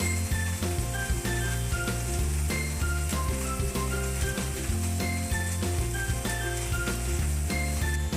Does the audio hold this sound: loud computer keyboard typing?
no